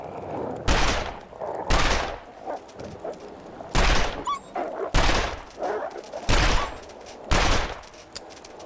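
Repeated loud gunshots fired from the hip in The Long Dark video game, about seven sharp blasts at roughly one-second intervals, each with a short echoing tail, with faint animal-like whimpers between them.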